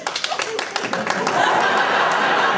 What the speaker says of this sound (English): And a round of applause who are the teachers